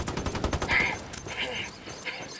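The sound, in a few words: gunfire in a video game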